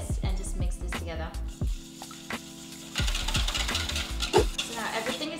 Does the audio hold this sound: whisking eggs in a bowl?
yes